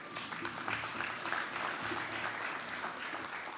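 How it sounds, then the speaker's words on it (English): Applause at a national assembly, a steady wash of many hands clapping for the logistical team, sustained and even for a few seconds, heard somewhat distant in a large room with a faint voice underneath. "Let us give them a round of applause"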